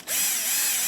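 A power drill fitted with a guidance bit whines steadily as it bores a hole while mounting a car windshield GPS holder, a loud close continuous burst starting abruptly.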